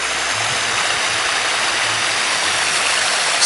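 A small waterfall beside a bridge on a snowy night, a loud steady rushing hiss of falling water filling the scene without a break.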